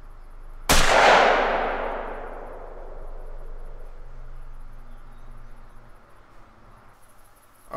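In theHunter: Call of the Wild, a shotgun loaded with buckshot fires once at a female animal, a sharp, loud report followed by a long fading echo that rolls on for several seconds in a quiet outdoor setting.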